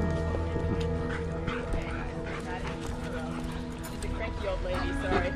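Several dogs bark and yip on a river valley hiking trail, loud and close, amid a dense steady mix of outdoor noise and people talking.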